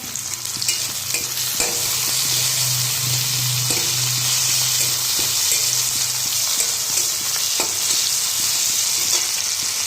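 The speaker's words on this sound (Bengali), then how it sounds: "এখানে দেখো পোলা মাছগুলো সব ভাজা হয়ে গেছে" Pola fish sizzles loudly and steadily in hot oil, with occasional clinks and scrapes of stirring and a low hum near the start.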